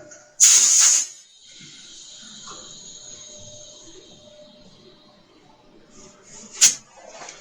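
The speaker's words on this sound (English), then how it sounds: "I may have to run that noisy compressor longer" A noisy air compressor lets out a loud, sharp hiss in a burst of about half a second, then a quiet stretch with faint murmuring, and a second short hiss near the end.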